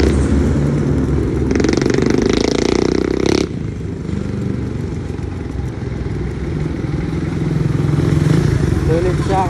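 Riding an e-scooter produces a steady, loud whirring motor and road rumble with rattling clatter from the frame, continuing without a break under a voice talking over it.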